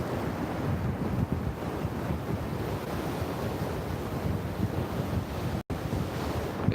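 Water rushing and bubbling up over a beach, a loud continuous roar of surf mixed with heavy wind buffeting the microphone, steady throughout with one brief dropout.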